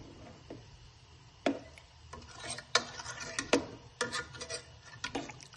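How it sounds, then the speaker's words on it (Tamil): Rice being stirred into chicken biryani in a pot, a run of soft scraping and rubbing strokes with a utensil, close and fairly quiet, in uneven bursts with short pauses. "ரைஸை போட்டதுக்கப்புறம் லைட்டாக கிளறி விட்டுக்கலாம்."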